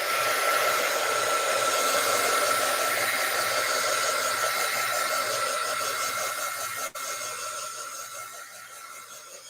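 A hair dryer blows a steady, loud airy roar with a whining motor tone while drying an art journal page, running continuously before tapering slightly near the end.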